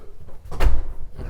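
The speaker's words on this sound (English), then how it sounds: "Sliding door here to save a little bit of room." Bathroom sliding door in a 2022 Cherokee 306MM travel trailer, moved once in a short, close scraping slide with a soft bump, with no voices over it.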